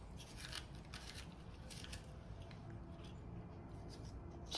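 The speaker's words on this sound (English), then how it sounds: "And then start scraping out all the seeds." Seeds and pith being scraped from a halved bittermelon with a spoon, a steady close, soft rasping scrape repeating in short strokes throughout, with no talking.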